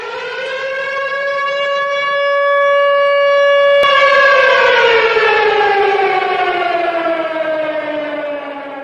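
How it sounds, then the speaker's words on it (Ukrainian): A civil defense air raid siren on a new public warning system wails loud and steady, its tone rising then slowly falling, sounding alone without any voices. "У випадку сигналу повітряна тривога сирена буде лунати 4 хвилини поспіль"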